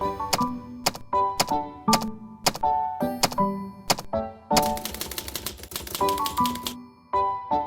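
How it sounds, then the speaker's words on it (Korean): A Kong Byung-woo Sebeolsik Hangul typewriter clacks through a run of sharp keystrokes with metallic thunks and a ringing bell-like tone, then a rapid burst of fast typing, close and alone. "한국인 최초의 안과학 의학 박사 공병우 박사에 의해 개발된 세벌식 타자기"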